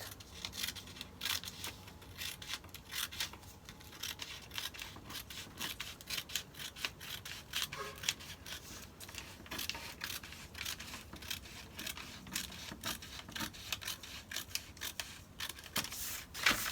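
Scissors snipping through paper while a bodice front pattern is cut out, a steady run of close, soft crisp cuts and rustles with no talking.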